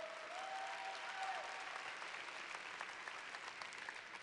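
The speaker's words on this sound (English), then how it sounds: "Clap it up for that. Clap it up." Audience applause fills a hall after a youth speaker's call to clap, a steady wash of many hands clapping at moderate distance, fairly quiet and continuous throughout.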